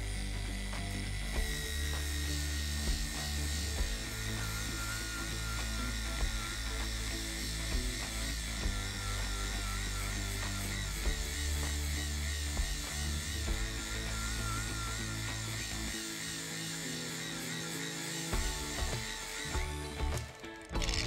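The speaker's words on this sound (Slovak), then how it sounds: "Krása flexa to na prvej rýchlosti zvláda úplne nádherne." A Herman WX-12506 1300 W brushless angle grinder with speed control runs at its lowest speed while polishing, giving a loud, steady whirring drone with a ratcheting, mechanical texture that keeps on without a break and eases slightly near the end.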